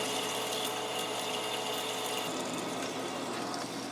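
Metal lathe at slow speed with power feed and oil, parting a hardened 4140 steel pin for an arbor press: a steady, loud broadband cutting hiss with faint ratcheting texture, continuous throughout without talk.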